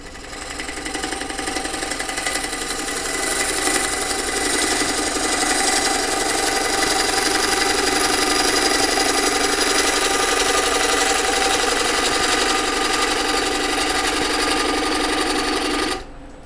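Bowl gouge cutting green wood on a lathe while shaping a bowl, a loud, steady, rough scraping hiss that holds for about fifteen seconds before stopping abruptly.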